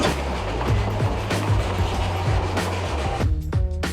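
Passenger train riding on rails, with loud continuous rumble and rhythmic clickety-clack of wheels over joints, a steady low drone underneath and a brief tonal whine near the end.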